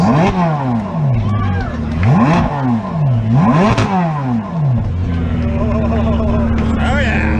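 A 2023 Chevrolet Corvette C8 Z06 engine revs hard several times in rising and falling sweeps, loud and close, at Road Atlanta, then settles into a deep steady idle.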